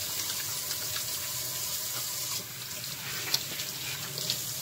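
Kitchen sink tap running steadily with water splashing into the basin at close range, a constant hiss with a couple of small clinks.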